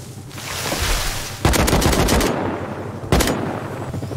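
Gunfire from a Chinook helicopter in the game Rust: loud, continuous rapid bursts of automatic fire, one long volley and a shorter one, close and dense over a rumbling background.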